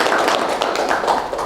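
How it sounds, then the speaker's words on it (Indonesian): Clapping from a village government audience in Kabupaten Bandung, a dense, steady patter of many hands close by, with no voices over it. "tepuk tangan buat"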